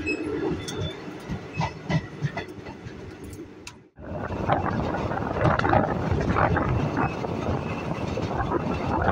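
Salem Chennai Superfast Express running on rails, a steady rumble with hiss and rattling carriage noise; it dips briefly near the middle, then returns louder and continuous.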